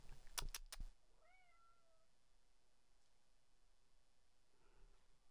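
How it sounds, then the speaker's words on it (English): A house cat meows a few times, the calls drawn out and rising then falling, distant and faint behind the room's quiet hum, preceded by a few sharp knocks nearby. "I hear my cat somewhere."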